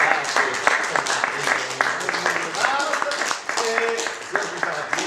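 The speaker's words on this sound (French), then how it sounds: "Nous applaudissons bien fort Madame Noël" Audience applause at a French book event for an author, steady clapping that fills the room while speech carries over it, with a voice and some tonal sounds audible through the noise.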